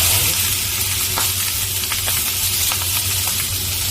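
Ramen noodles and green onion sizzling in a hot pan, a loud, continuous close frying hiss with a few scraping stirs, no talk.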